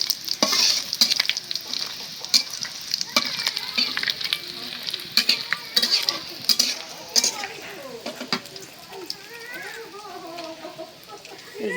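Dried red chillies crisping in soybean oil for khichuri, with a loud, continuous sizzle and repeated scraping stirs; a rooster or hens cluck nearby toward the end.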